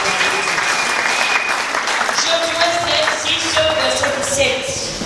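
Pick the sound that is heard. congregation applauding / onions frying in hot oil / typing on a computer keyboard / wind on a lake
congregation applauding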